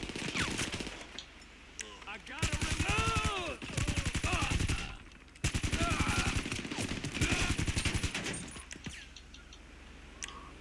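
Sustained automatic gunfire in GTA 5 Online as a gun empties its magazine, two long rapid bursts of loud shots separated by a short pause, with quieter ambient game sound before and after.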